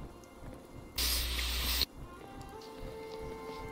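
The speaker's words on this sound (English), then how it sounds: "it's raining" Rain falls in the Patrol System search-and-rescue game as a loud, steady hiss that starts abruptly, holds for nearly a second and cuts off sharply, leaving a quiet background.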